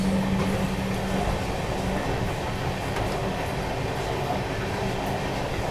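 The New Delhi–Gaya Mahabodhi Express rolls through Ghaziabad Junction without stopping, a steady loud rumble of rail travel with a continuous rattle of wheels on track heard from on board.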